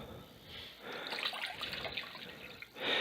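Distilled water poured for a batch of homemade soap, a steady splashing trickle with drip-like spatters, close and fairly quiet, with no voices.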